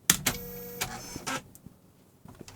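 An Oki-Data Oki-Mate 20 thermal printer prints a line of text, giving a few short whirring and clicking bursts over about a second and a half, close and fairly quiet, then near silence with faint ticks.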